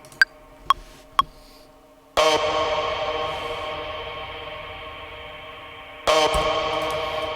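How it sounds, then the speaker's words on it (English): Three short sharp clicks, then two loud bright hits, each followed by a long ringing tail that slowly decays in a reverberant space. "That's a lot of reverb."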